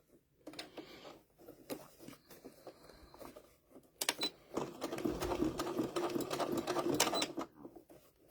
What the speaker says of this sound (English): you definitely want to top stitch this